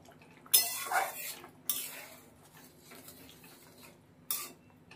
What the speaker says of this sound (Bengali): একটু নাড়িয়ে দেবো আবার।